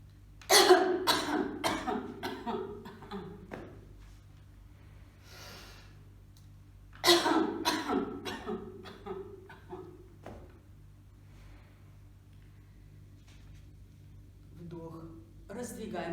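Two bouts of deliberate, forceful coughing during a breathing exercise for COVID-19 rehabilitation, each a cluster of harsh coughs trailing into breaths, with quiet pauses between.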